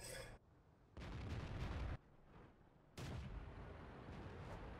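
Tank cannon fire in the World of Tanks video game comes as two heavy, booming blasts about two seconds apart, each lingering with a rumbling tail over a low background.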